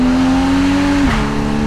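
A Porsche 981 Boxster GTS with PDK gearbox pulls hard, its engine note holding a steady tuneful drone before a quick gearshift drops the pitch.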